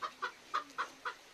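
A hen clucks in a farmyard, five short, evenly spaced clucks at close range, fairly soft and heard alone without any talk.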